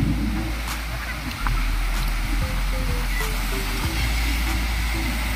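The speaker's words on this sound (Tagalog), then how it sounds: "Nagwawala yung alon." Rough ocean surf churning during a typhoon making landfall in Mindanao, a steady loud roar of crashing waves with gusty wind noise, with someone talking over it.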